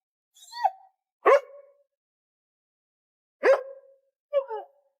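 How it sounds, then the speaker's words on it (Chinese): A dog barks in a thriller drama scene: two sharp, loud barks separated by a pause, with shorter yelping calls before and after, set against total silence. "外面的狗子再次叫了起来"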